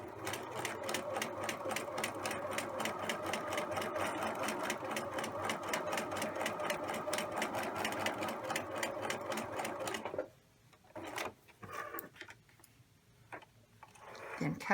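A sewing machine runs steadily, stitching a double needle hem on knit fabric in a fast, even rhythm for about ten seconds, then stops, leaving a few soft handling clicks and rustles.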